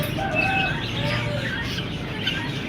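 Small parrots such as lovebirds chirp and tweet in a busy bird market where chickens and other fowl are also kept, a dense steady chatter of overlapping calls close by.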